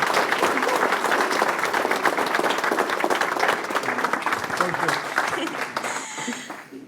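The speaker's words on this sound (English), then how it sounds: "Can we give him one last round of applause?" Audience applause at an SPE event, a dense, sustained round of many hands clapping close and loud, easing off slightly in the final second as it fades.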